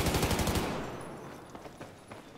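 Hip-fired automatic gunfire in the video game Battlefield 4 rattles in a rapid burst of close shots for about half a second, then fades into quieter scattered distant shots.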